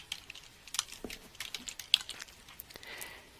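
Quiet typing on a computer keyboard, a sparse run of light clicking keystrokes with small uneven gaps, close by and alone.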